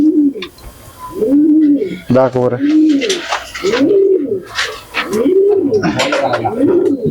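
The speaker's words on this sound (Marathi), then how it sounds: "हा जो आऊल जातीचा कबूतर" Owl-breed pigeon cooing, a steady run of soft rolling coos repeating close by, with a brief spoken voice partway through.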